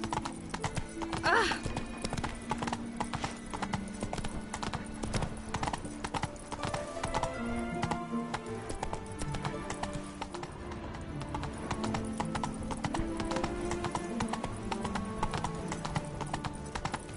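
Horse hooves gallop in The Witcher 3 video game, a steady fast clip-clop running throughout alongside background game music, with a voice speaking over parts of it.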